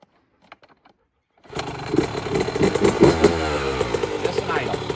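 A dirt bike engine fires up after a second and a half of near silence, then settles into a slow, steady idle, close and fairly loud, with a low rumbling throb throughout.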